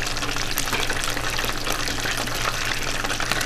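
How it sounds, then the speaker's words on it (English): Battered chicken pieces deep frying in a pot of hot oil, a close, dense and steady sizzling crackle with constant bubbling, loud and uninterrupted throughout. "You want to deep fry them twice so that you get that nice crispy"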